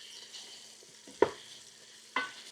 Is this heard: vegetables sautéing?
yes